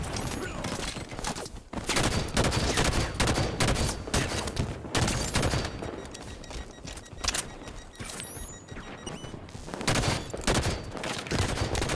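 Halo 5 Warzone battle with dense bursts of automatic gunfire and fusillades, loud volleys rattling in clusters with brief lulls between them.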